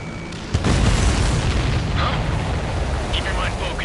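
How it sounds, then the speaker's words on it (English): A missile launching and blowing up in Ace Combat 7: a sudden roaring blast that swells into a sustained rumbling explosion, loud and close, layered under jet noise and radio voices. "Missile away."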